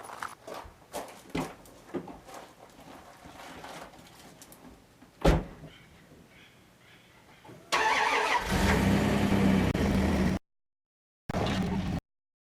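A car is started and moved: sharp clicks and door thuds, then an engine turns over and runs loudly and steadily before cutting out, with a brief final burst of engine noise. There is no talk.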